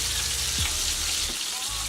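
Steady sizzle and crackle of Salisbury steak patties frying and browning in a pan, close and continuous with no talk.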